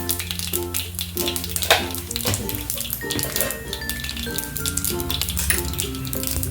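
Mustard seeds and cumin spluttering in hot oil, with dense continuous crackling and sizzling loud and close, joined by light clinks of a pan under a steady musical backing.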